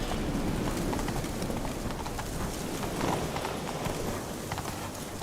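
Horse hooves clip-clop steadily as a rider travels in the Witcher 3 video game, a dense rapid patter mixed with rain-like ambient noise and no talk.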